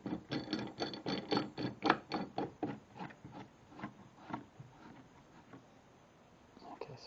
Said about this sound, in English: go ahead and tighten your board down